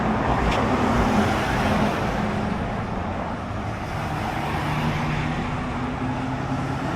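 Road traffic near Daytona Beach, Florida, a dense continuous roar of cars and trucks passing close by, with tire hiss and engine drone holding steady and loud for the whole stretch, no talk.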